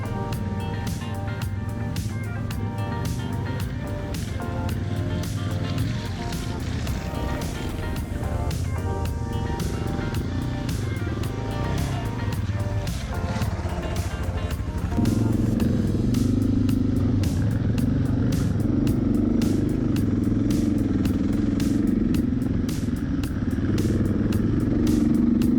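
A Yamaha T7 adventure motorcycle rumbles along a muddy high-country trail, its engine droning steadily with clattering and splashing, and the engine note rises and shifts partway through.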